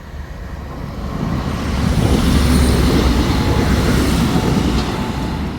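Express train passing the Dunmurry Glebe Road level crossing in Belfast, a loud rumbling roar with rhythmic wheel clatter that swells as it draws level and then eases slightly as it moves away.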